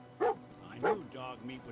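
A dog in the video game Fallout 4 gives two short, sharp barks followed by a softer whimpering yip, close and distinct against a quiet game background.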